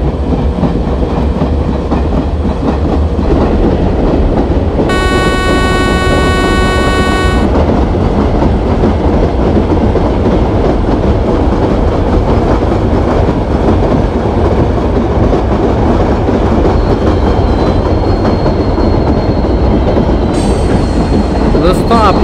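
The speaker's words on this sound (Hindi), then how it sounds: "अराइव कर रही है WT4D लोकोमोटिव के साथ एक हम सफ़र एक्सप्रेस, प्लेटफॉर्म नंबर 1 पर अराइव कर रही है।" Humsafar Express hauled by a WT4D locomotive arriving at a platform in Indian Train Simulator gameplay: a loud, continuous rumble of rolling wagons and wheel clatter, with a sustained multi-tone horn blast early on and a shorter high tone near the end.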